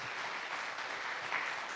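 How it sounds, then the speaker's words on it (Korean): A steady wash of applause from a church congregation at a Sunday service, given for a deacon who stands to be recognised, even and sustained throughout. "저 집사님께 우리 박수로 한번"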